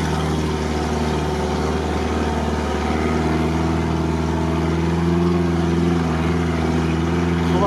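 A UAZ Patriot's engine drones steadily in low gear as the SUV climbs a steep, dry hill, a constant, loud, close mechanical hum with a slight rise in revs partway through.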